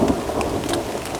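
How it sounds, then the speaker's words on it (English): Rain falls steadily during a thunderstorm in the Yosemite wilderness, a brief, dense patter with a low thunder rumble underneath, fairly soft and without voices. "it's really raining now. And the thunder is going off."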